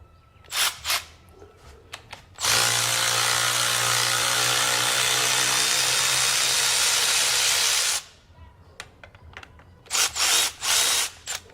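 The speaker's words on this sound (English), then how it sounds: "because I'm a modern mechanic now, battery-powered cordless tool." Battery-powered cordless power tool removing nuts on a 1915 Dodge Brothers touring car, one loud steady whine of about five and a half seconds, framed by brief clanks and tool handling.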